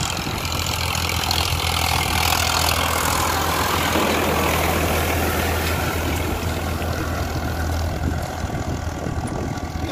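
A Farmtrac 60 Powermaxx tractor engine runs steadily at 1700 RPM in a farm field, a loud continuous diesel drone with a strong low hum, close to the microphone and without voices.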